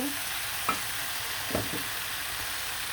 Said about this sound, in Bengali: এখানে কিন্তু টমেটো আর কাঁচা মরিচগুলো দিয়ে দিব দিয়ে ভালো করে কিন্তু আবারও কষিয়ে নেব